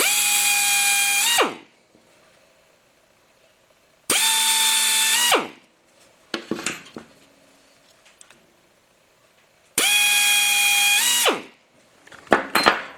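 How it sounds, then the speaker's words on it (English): A power drill bores holes through a Willys emergency brake shoe for rivets: three loud, separate whining bursts, each about a second and a half, with softer clinks and handling noises in the gaps. "That way I know on the other side where to start my drill."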